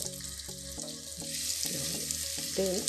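A small onion fries in oil and butter with a soft, continuous sizzle. Faint steady tones and a few clinks sit beneath the frying, which stays fairly quiet and close.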